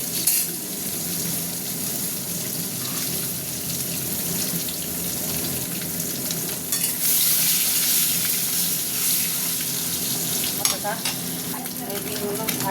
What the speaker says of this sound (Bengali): এই যে ডিম দিয়ে দিয়েছি, ভাজছি।